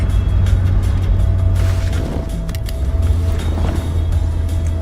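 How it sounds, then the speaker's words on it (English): Road traffic at a standstill near a tunnel, a loud, continuous low engine rumble with a faint steady tone and no clear individual vehicles. "It's a pity about the traffic."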